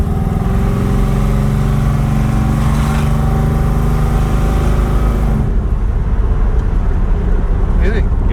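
A car engine drones steadily with a low exhaust rumble while driving, then the tone drops off and road noise takes over; faint voices are audible.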